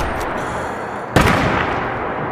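A single sharp weapon shot from Fallout 4 cracks out loud and close, with a broad burst that lingers briefly over a steady background rumble of game ambience.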